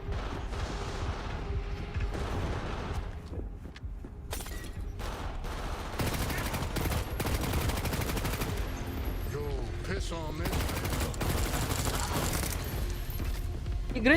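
Gunfire rattles in the game Cyberpunk 2077, dense bursts of shots and mechanical clatter running throughout, loud and continuous with a voice talking over it.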